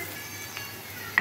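Turmeric and ginger-garlic paste frying in a pan give a low, steady sizzle with faint stirring, and a brief utensil scrape near the end.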